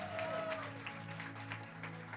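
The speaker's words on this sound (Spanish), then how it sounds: "Démosle un fuerte aplauso al Espíritu Santo de Dios." A church congregation applauds during a Spanish-language sermon, the clapping steady and moderately loud for a couple of seconds over a sustained low musical hum, with a little talk mixed in.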